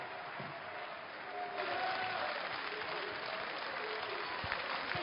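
Sustained applause fills a parliamentary assembly chamber during questions to the government, a dense steady clatter of many hands that swells slightly louder partway through and continues without a break.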